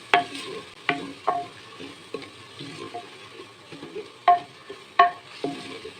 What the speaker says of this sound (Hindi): मसालों की बुनाई हो गई है